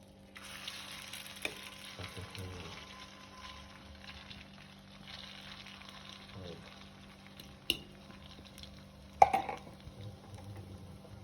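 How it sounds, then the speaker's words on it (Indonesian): Medog pieces fry in hot oil with a soft, steady sizzle that stays fairly quiet. A few sharp clinks and knocks of cookware break in, and no one speaks. "Setelah minyaknya panas, masukkan medognya ke dalam minyak panas."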